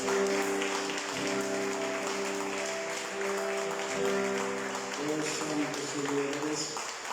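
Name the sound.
congregation applause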